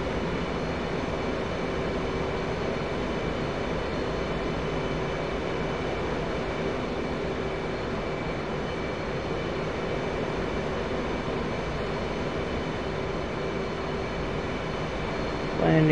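Steady turbine whine and rotor drone of a UH-1H Huey helicopter in the DCS flight simulator, holding a constant, even roar for the whole stretch as the throttle is brought up, with a faint voice under it.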